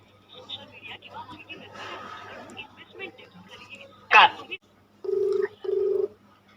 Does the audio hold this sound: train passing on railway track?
no